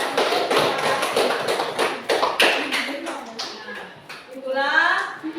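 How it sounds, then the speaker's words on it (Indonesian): A class of schoolchildren applauding group 3 in a classroom, a dense burst of many hands clapping together at first, thinning into scattered claps while children chatter and a voice speaks near the end. "Kita berikan tepuk tangan untuk kelompok 3"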